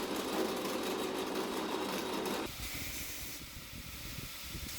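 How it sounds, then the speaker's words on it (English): A power grinder shapes knife handle scales with a steady, loud broadband rush that drops to a lower, rougher grind partway through, close up and without voices. "now I'm grinding my scales pretty close up to my final dimensions"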